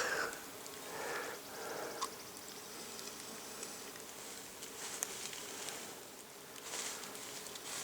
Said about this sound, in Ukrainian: Тут стоїть гул більший, ніж у мене на пасіки.